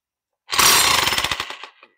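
A 40 mm-capable rotary hammer drill chisels in a short, loud burst of rapid pounding blows that trails off as it stops, with nothing else audible around it.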